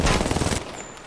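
A loud, close burst of rapid automatic gunfire from the Apex Legends battle royale game rattles for about half a second, then trails off into a fading echo.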